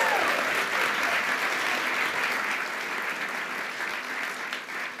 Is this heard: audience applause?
yes